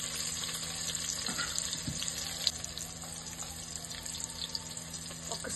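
Green chillies frying in hot oil in a pan for egg biryani, a steady soft sizzle and crackle running continuously throughout, with a few faint clinks of utensils.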